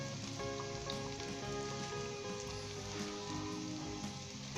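Ginger and onion sizzle steadily in hot oil in a pan, cooking toward light golden brown; a continuous close crackling fry runs under soft tonal background music with no talking.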